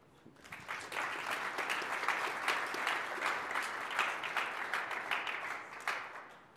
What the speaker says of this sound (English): Let's give a big round of applause to them for their insightful